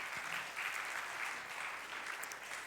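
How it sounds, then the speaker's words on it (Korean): A church youth worship congregation claps to welcome a pastor, a brief continuous patter of applause at moderate distance with little talk. "우리 목사님 올라오실 때 우리 박수로 환영하겠습니다"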